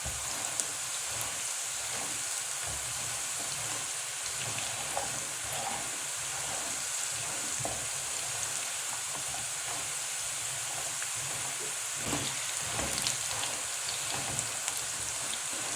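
Potatoes fry in a pan with a steady, rain-like sizzle and crackle, continuous and fairly close throughout, with small pops and occasional scraping stirs.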